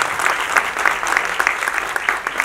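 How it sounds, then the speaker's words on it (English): Audience applause at a Bollywood music launch event as children come onto the stage, steady dense clapping from a large crowd, fairly loud and continuous with no talk over it. "Please applaud them."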